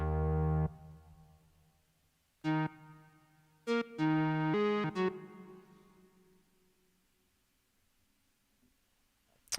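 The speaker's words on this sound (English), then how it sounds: "Model D Moog, which also sounds great" A Moog Model D synthesizer plays a few bright, buzzy sustained notes with sharp attacks, pausing between phrases, then a long fading tail into near silence.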